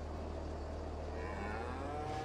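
Cattle in the Farming Simulator 22 video game moo in long, low, drawn-out calls, with one moo rising clearly near the end over a steady low hum.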